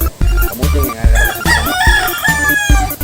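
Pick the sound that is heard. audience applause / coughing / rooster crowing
rooster crowing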